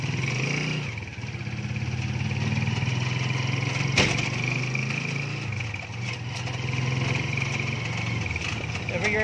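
A motorized tricycle's small engine chugs steadily during a ride in Subic, a constant close rumble with slight swells in pitch, while someone talks over it.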